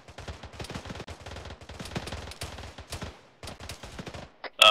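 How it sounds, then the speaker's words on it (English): Rapid bursts of automatic gunfire crackle in ArmA 3 as street lights are shot out, dense volleys with brief pauses between them, loud and close, ending in a few separate shots. "can everyone just shoot out all the street lights?"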